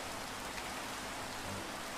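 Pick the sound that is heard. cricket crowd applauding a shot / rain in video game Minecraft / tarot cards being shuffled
rain in video game Minecraft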